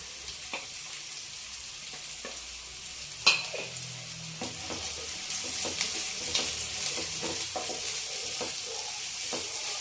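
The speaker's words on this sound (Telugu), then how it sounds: "అల్లం వెల్లిపాయ పేస్ట్ బాగా వేగిన తర్వాత ఉల్లిపాయలు వేసుకుందాం." Onions sizzle in a pan with ginger garlic paste while being stirred, a steady close frying crackle broken by occasional scraping knocks of a spoon.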